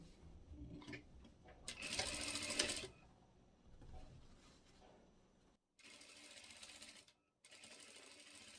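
A sewing machine runs a straight seam on fabric for a double-sided Christmas tote bag, whirring in short bursts with brief stops and a louder mechanical rattle in between, nearby and without talk.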